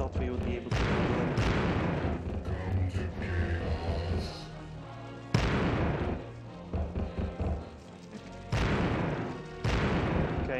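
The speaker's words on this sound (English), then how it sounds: "he's throwing grenade up there. That's fine, that's actually okay. That was the type of frag grenades as well" Frag grenades explode in the Warhammer 40k: Chaos Gate video game, three loud booming blasts with rumbling tails, separated by stretches of quieter battle noise.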